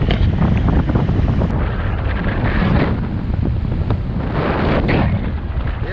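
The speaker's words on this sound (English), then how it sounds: "It's crazy how windy it is." Strong mountain wind in Zermatt, Switzerland, roars and buffets the microphone continuously during a paragliding flight, a loud, steady rush with gusting swells and no voices.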